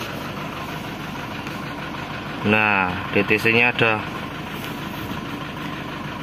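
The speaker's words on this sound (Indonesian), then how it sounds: "Aduh, kok geter-geter mesin ini." A Mitsubishi Triton engine with a fault in fuel rail pressure idles roughly with a steady, vibrating hum throughout, and someone speaks briefly over it midway. The engine is running rough, blowing white smoke and lacking power.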